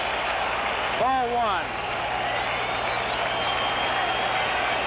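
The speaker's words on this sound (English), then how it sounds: "Listen to the crowd." A baseball stadium crowd cheers and roars at a World Series game between the Yankees and Dodgers, a steady, broad wash of noise under a commentator's voice from start to finish.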